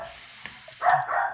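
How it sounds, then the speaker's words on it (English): Dogs barking in the background, a faint yip followed by a louder, drawn-out bark or whine that fills the last half second. "the dogs are starting to bark"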